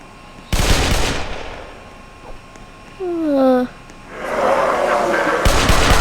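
Gunfire in a Roblox Backrooms game, with loud rapid bursts of shots at the start and end and a rising tonal sound between them.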